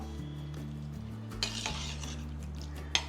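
Ingredients are stirred and mixed in a cooking pot, with a low humming background, soft scraping, and a few metallic clinks of a utensil against the pot, one sharper knock near the end.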